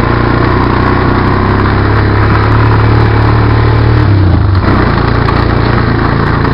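Engine of a Honda Recon quad ATV with a five-speed foot-shift transmission and auto clutch, running steadily while riding, loud and close with a constant drone and a slight pitch shift midway.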